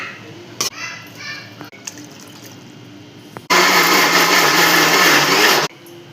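A loud, steady whirring of a kitchen mixer grinder blending, starting abruptly and running for about two seconds before cutting off, after quieter kitchen sounds, while cooking a fish curry.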